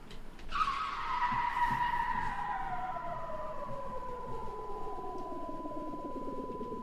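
Car tyres skidding in a horror video game, a single loud screech starting abruptly and trailing off into a long sustained whine, with no talking.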